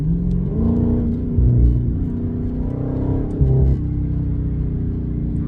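A sedan's performance exhaust idles with a deep, steady rumble, then rises twice in short revs before settling back, loud and close with no talking.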